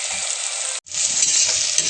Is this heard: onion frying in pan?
yes